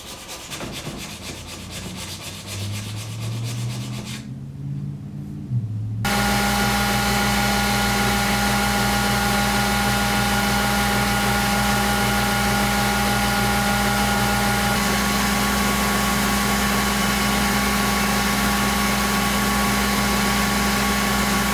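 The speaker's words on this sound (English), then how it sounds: "I'll clean off the oxides and bring the bevel to its final size." A steel knife blade is ground after heat treat to remove oxides and finish the bevel. A steady, loud grinder roar runs unbroken through most of the clip, after a few seconds of softer motor hum that rises in pitch.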